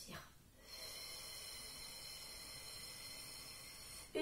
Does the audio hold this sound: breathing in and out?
yes